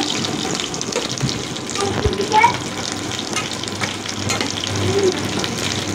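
Dried loitta fish is lifted out of hot frying oil, a steady crackling sizzle with scraping and stirring clatter close by, some splashy bursts in between, no talk.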